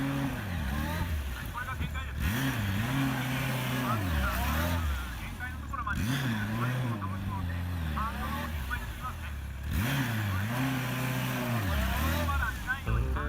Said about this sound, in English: Try to listen to the engine sound.